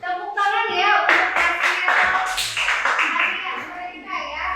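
Schoolchildren in a classroom clap for classmates after a rhyming-verse exercise, with scattered, uneven bursts of hand claps mixed with children's voices and chatter.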